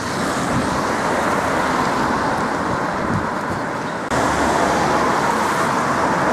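Steady traffic roars past on a busy road in Denby, a dense close rush of passing cars with a brief dip near the middle before the noise swells again.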